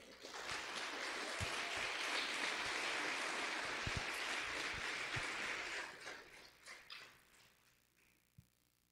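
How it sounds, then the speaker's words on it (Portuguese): A church congregation claps and cheers in a sustained burst of applause that holds steady for several seconds, then thins out and fades into a few scattered claps. "Dê um aplauso a Deus."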